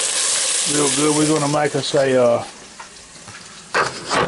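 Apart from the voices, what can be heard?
garlic sautéing in a pan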